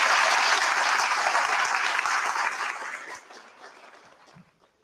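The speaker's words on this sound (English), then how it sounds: "So will you please give Alex a really big round of applause?" A big round of audience applause at a Dorset Humanists talk, a dense clatter of many hands that holds strongly for a few seconds, then tapers and dies away near the end.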